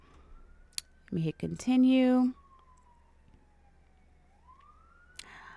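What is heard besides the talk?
passing fire engine sirens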